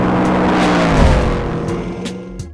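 The American-made twin-turbocharged engine of a Hennessey Venom F5 hypercar, rated near 2,000 horsepower, hums loudly with a tonal drone that swells, then falls away and settles, with a few sharp clicks near the end and no speech.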